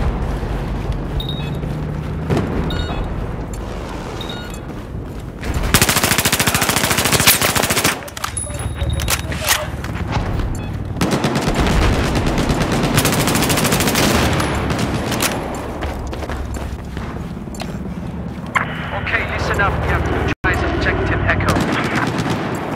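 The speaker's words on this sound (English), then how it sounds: "I've spotted a hostile machine gunner just due east of your location." Sustained machine gun fire in the Battlefield 4 video game, loud rapid bursts and long fusillades stacked with other gunfire and booms throughout, with a louder dense stretch in the middle.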